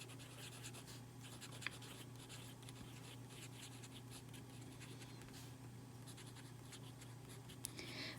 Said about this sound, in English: this nib like has a lot more feedback, but I don't like it. Kind of sounds scratchy like on the camera